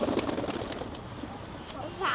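Domestic pigeons, a local giribaz breed, coo softly and close by, the calls partly masked by steady background noise and nearby voices.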